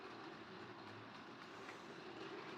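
A model 10730 locomotive runs round a Southern Railway layout, giving a steady, low rumbling rattle of wheels on track that holds even throughout with no talk.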